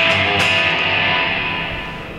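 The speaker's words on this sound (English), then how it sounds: "Now we have a spring reverb," A Blackstar ID series guitar amplifier set to spring reverb, with a distorted guitar chord sustaining and slowly decaying into a bright, washy tail, loud and without any voices.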